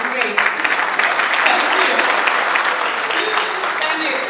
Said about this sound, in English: There's one man clapping, which is great.